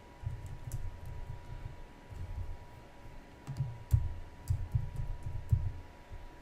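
Keys clatter on a computer keyboard while code is typed into a React JavaScript form, the clicks coming in short, irregular bursts with brief pauses between them, close and moderately loud against a quiet room.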